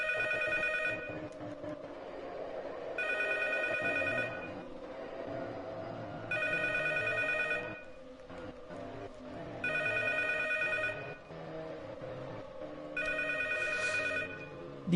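In the horror game P.T., a telephone rings in five evenly spaced trilling bursts with short pauses between them, over a dark, low ambient drone.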